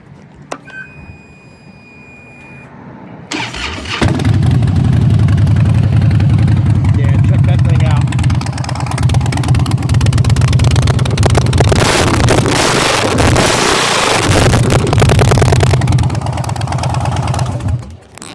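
A 2009 Harley-Davidson Crossbones with a Springer front end and Vance and Hines pipes cranks over after a quiet start, then fires into a loud, deep, steady V-twin idle with lumpy pulses that run to the end.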